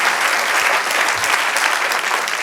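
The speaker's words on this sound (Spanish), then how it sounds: "Denle un aplauso al Señor." A church congregation claps together during a sermon, a dense, steady burst of applause that fills the room, close and loud for a couple of seconds.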